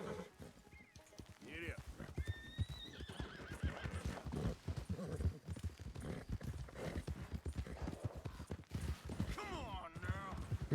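Horse hooves clip-clop at a brisk rhythm in Red Dead Redemption 2, a western video game, with a horse neighing and snorting along the way while characters talk over the hoofbeats.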